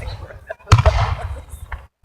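A firework bursts with a sharp bang, followed by a crackling, rumbling tail that fades over about a second, fairly loud, with faint voices nearby.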